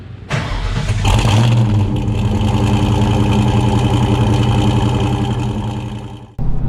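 A 2020 Ford Mustang GT V8 fires up with a sharp crank and rev, then settles into a loud, steady rumbling idle close by before cutting off abruptly.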